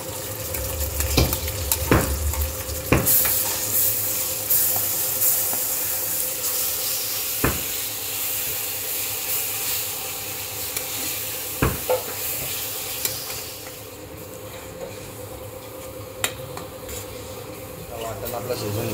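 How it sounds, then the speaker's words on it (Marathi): Green masala paste frying and being stirred in oil, a constant sizzle with sharp spoon-against-pan scrapes and knocks at irregular intervals, close and fairly loud. "वाटण आपलं शिजून गेले तेल सुटले वाटणाला"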